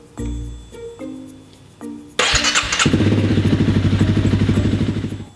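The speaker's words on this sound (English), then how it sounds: "starting up my motorcycle" Motorcycle with a carburetor or fuel injection cranking over a few times with short mechanical clicks, then catching and settling into a loud, rapid idle close to the microphone.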